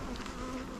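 Honey bees buzzing steadily around large hive frames during a beekeeping inspection, a close, continuous insect drone with no talk.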